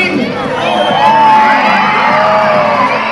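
Children cheer, whoop and scream together at a Disney Dream cruise sail-away party, a loud sustained crowd roar from many young voices with shouts rising above it.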